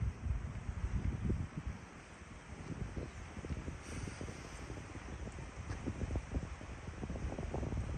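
Wind gusts through many trees at a seaside campsite near Sam Phraya beach, Sam Roi Yot, a steady rushing blow with rustling leaves and gusty surges close to the microphone; no talk.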